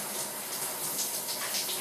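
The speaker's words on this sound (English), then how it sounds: "So let's go take a shower." Steady household shower spray pouring continuously, a dense even hiss of running water with no voices, moderately loud and close.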